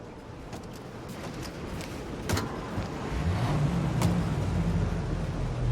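A car engine hums at a steady low drone while driving in a 1930s-style city in the video game Mafia Definitive Edition, rising slightly in level, with a few faint clicks and no talk.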